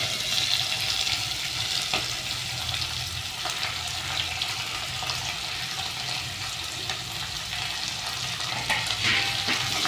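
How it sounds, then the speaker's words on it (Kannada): Masala fries in a pan for vegetable pulao with a loud, steady sizzle and crackle, marked by occasional scraping stirs, continuous and close throughout. "ಒಂದು ಹತ್ತು ಸೆಕೆಂಡ್ ಫ್ರೈ ಮಾಡ್ಕೊಳ್ರಿ ಮಸಾಲ ಎಲ್ಲ ಫ್ರೈ ಆದಮೇಲೆ ಎಲ್ಲ ವೆಜಿಟೇಬಲ್ಸ್ ಹಾಕೋಣ"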